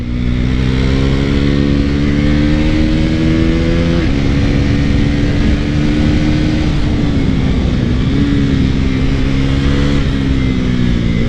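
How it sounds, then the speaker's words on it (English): A Bajaj sport motorcycle with a quickshifter engine note pulls hard on a first ride, a loud close-up drone climbing in pitch with a quick shift dip partway through. Wind roar runs underneath, and there is no talk. "this bike is damn fast, man, and very aggressive"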